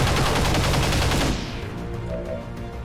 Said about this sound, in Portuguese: E vou atirar no Berserker.